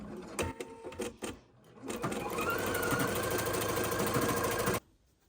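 Embroidery sewing machine stitching the off-white base of a lace heart, a few short stuttering bursts followed by a fast, steady, close mechanical whirring run that stops abruptly.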